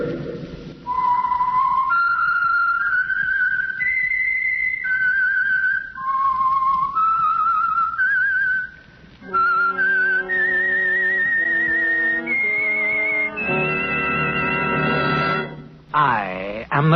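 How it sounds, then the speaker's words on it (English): A man whistles a loud, clear melody alone as the signal for The Whistler radio program, with sliding and held notes that climb and fall in a steady eerie tune, ending in a brief rising swoop. "That whistle is your signal for the Signal Oil program, The Whistler."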